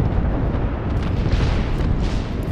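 An airstrike hits during an Apex Legends match, producing a continuous heavy roar of blasts. It sounds like deep, booming explosions blending into one loud, rumbling wash that lasts the whole moment.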